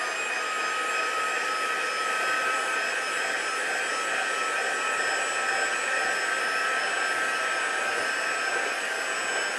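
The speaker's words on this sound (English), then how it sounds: "I'm just going to give it a quick heat dry just in case there's any ink" Heat tool blowing hot air to dry ink on a mixed media card, a steady, loud whirring hiss with a fixed pitched whine, running unbroken throughout.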